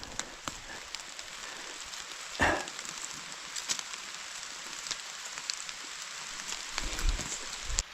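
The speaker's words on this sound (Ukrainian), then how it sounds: "Дощик то сильніше." Steady rain patters and hisses across the whole stretch of forest, with a few louder drips and rustles nearby; no one speaks.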